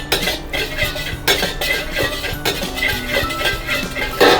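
Sesame seeds being roasted in a pan while making mung bean and brown sugar balls, with steady scraping and stirring clinks of a utensil against the pan, close and moderately loud, in repeated bursts.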